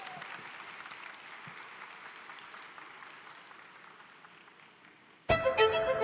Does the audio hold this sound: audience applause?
yes